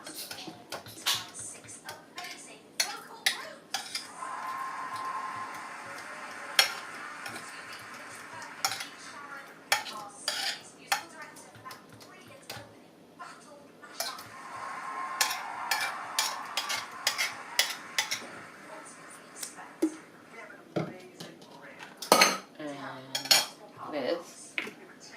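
A utensil mixes mashed tofu and egg whites in a pan, giving frequent clinks and scrapes throughout. Under these sits a faint sizzling hiss that swells twice. A few louder knocks come near the end.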